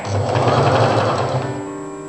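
A sewing machine stitches a fold along the collar of a front-open Chinese collar jacket, giving a steady close motor whir with rapid needle clatter that eases slightly near the end.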